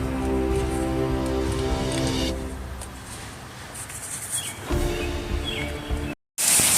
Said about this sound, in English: so it started raining real bad